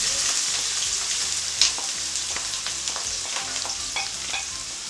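Onions frying in a generous amount of oil for goat meat pilau, a steady close sizzle with scattered crackles and stirring scrapes, no talk.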